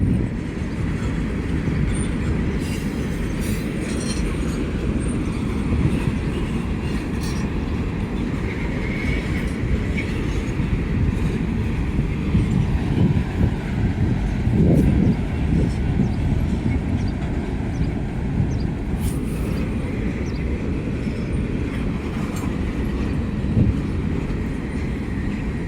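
A CSX Q009 freight train rolls slowly through a city railroad park in Birmingham, Alabama, its wheels and cars giving off a steady, close rumble with faint squeals for the whole stretch.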